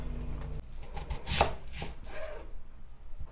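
A 1960s Veg-O-Matic dicing an onion, heard as a few short, close clunks and cutting crunches in quick succession, with no talking.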